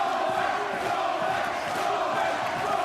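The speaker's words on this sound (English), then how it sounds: "And the crowd, Jim, are absolutely loving it." A boxing crowd at a British title fight roars and cheers in a continuous, dense wall of voices, loud and unbroken throughout.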